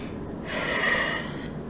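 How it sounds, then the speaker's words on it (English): A single slow, deep breath, drawn in and let out close to the mic during a quiet meditation, steady and unhurried, with no talking. "just hold your hands out and take 3 deep breaths"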